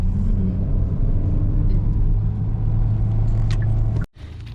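A car rolls along a road with a steady, loud low rumble of engine and tyre noise from inside the cabin, briefly cutting out near the end.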